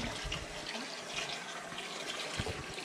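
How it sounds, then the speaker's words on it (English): Tap water runs steadily into a sink during handwashing, a continuous close rushing splash with no talk over it. "And then we come and turn off the water."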